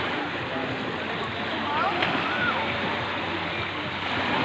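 Ocean waves roll onto a beach in a continuous broad wash of surf, steady and fairly loud, with a faint swell midway.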